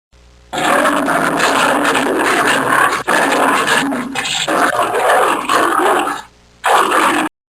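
A lion in a children's alphabet lesson gives a loud, continuous roaring growl that fills about six seconds, with a brief dip midway and a short break near the end.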